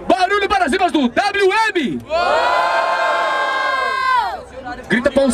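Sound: crowd cheering and shouting at a rap battle

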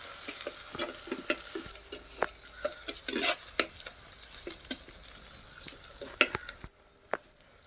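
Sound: crushed ginger and garlic sautéing in a pan

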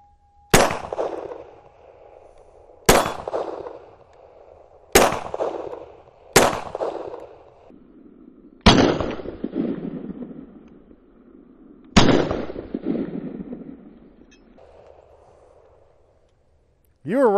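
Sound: gunshots from Hi-Point JHP .45 pistol

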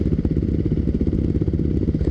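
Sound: Yamaha WR450 dirt bike engine riding past

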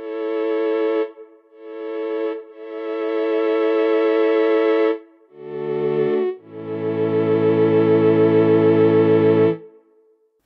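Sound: synthesizer reverb effect

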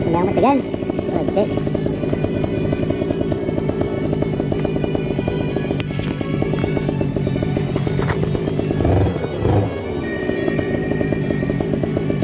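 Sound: paramotor engine revving up for takeoff

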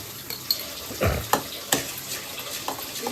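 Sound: semolina (rava) being roasted and stirred in a pan

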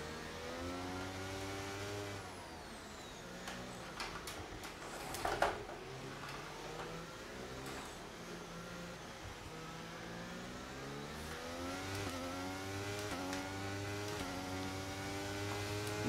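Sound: Formula 1 race car engines, from video game F1 23

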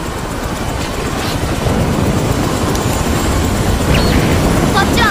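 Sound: helicopter

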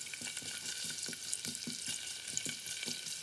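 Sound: garlic and ginger frying in cooking oil

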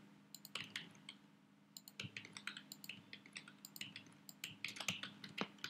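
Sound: typing HTML code on a computer keyboard

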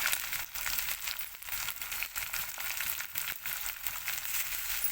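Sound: chopped tomato frying in pan for fish curry

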